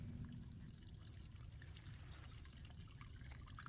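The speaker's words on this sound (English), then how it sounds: "A lot of water draining through there." Water draining from a boat through its plug hole, a faint, steady trickling pour with a low rushing undertone and no pauses.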